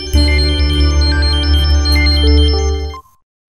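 A phone ringtone plays loud and close as a bright, repeating electronic melody over a steady low tone, running about three seconds before cutting off abruptly into silence.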